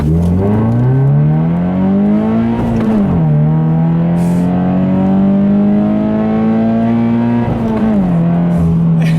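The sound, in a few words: Subaru BRZ car accelerating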